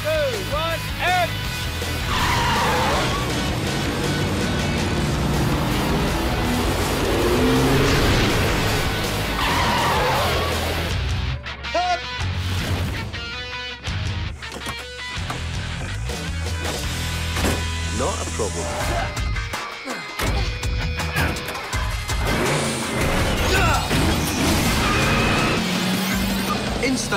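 High-speed stunt driving for a Power Rangers episode: car engines roar, tires skid and a crash bursts out midway. A narrator's voice and dramatic music run over the sounds throughout, dense and loud.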